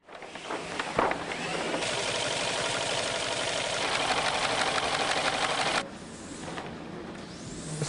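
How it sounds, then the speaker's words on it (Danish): A sail loft sewing machine set down into the floor runs steadily at speed for about five seconds, loud and close, then stops, leaving quieter workshop sounds. "Symaskinen er gravet ned i gulvet"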